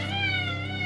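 A cat meows once, a sustained, close, clear meow that lasts almost a second over a faint low hum, with no talk.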